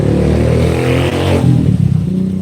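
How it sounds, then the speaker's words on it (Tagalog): Loud, continuous roar of noisy passing traffic, cars and motorcycles with engines revving and rumbling close by, with no voices. "Ang ingay ng mga sasakyan mga kababayan"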